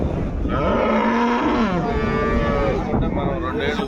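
A cow lets out a loud, long moo close by at a dairy cattle market in Palamaneru, its pitch rising and falling as it drags on.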